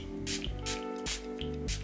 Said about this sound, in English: Now we are going to spray my face. Revolution Pro Fix Oil Control Fixing Spray.